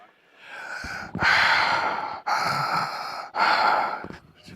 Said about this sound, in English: I'm not asleep, and I'm not snoring. That's how I breathe.